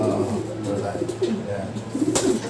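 Racing pigeons in breeding condition coo in a loft, low repeated throaty calls close by, with people talking over them throughout.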